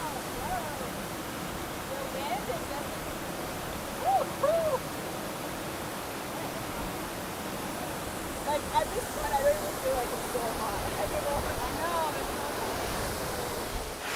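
A waterfall gives off a constant, even broadband roar that fills the background, with brief faint tonal calls surfacing over it and no clear voices.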